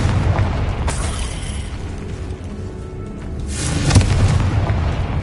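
Spell explosions from Bombarda or Confringo in Hogwarts Legacy on PS5, a rumbling boom with two sharper blasts, one early and one later, over continuous loud game noise.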